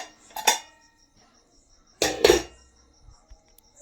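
A lid is set onto a metal kitchen container in a home kitchen: a sharp clank near the start, then a louder double clatter of metal on metal after a pause, with quiet between.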